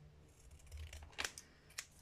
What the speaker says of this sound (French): on peut découper correctement le rectangle déjà